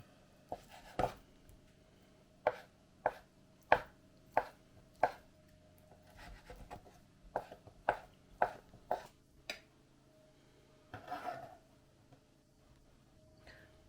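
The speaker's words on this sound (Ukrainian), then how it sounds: "Бринзю наріжемо кубиками невеличкими" Knife chopping brynza cheese into small cubes on a board, a run of sharp, evenly spaced cuts close up, pausing briefly midway before more quick chops and a softer scraping at the end.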